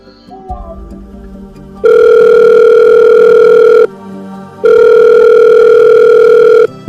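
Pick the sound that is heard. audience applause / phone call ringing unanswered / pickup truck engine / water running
phone call ringing unanswered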